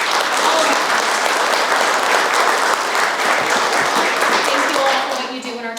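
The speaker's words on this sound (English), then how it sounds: "So big round of applause." Audience applauding a community speaker at a Chamber State of Community event in November 2024: dense, steady clapping from a sizable crowd that holds for about five seconds, then begins to thin and fade as a voice starts talking.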